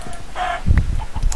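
Minecraft chickens give short clucks and squawks, a few brief calls close up within about a second, with no talk over them.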